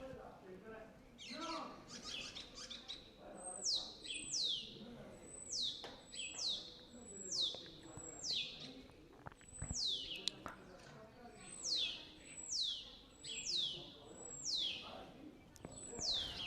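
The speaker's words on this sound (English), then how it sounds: "What kind of bird is making that noise?" A bird repeats a sharp, downward-sliding chirp at a steady rhythm, roughly one call a second, while riding on a tandem bike along a road near Cuéllar, Spain; quiet talk and road noise sit underneath.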